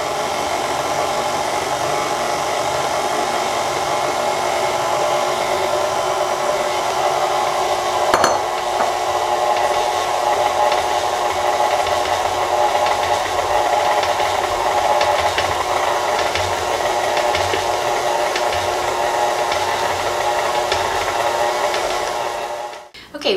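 Electric mixer blending gingerbread cookie dough with flour, a steady close whirring drone running continuously for over twenty seconds with a brief knock partway, then cutting off at the end.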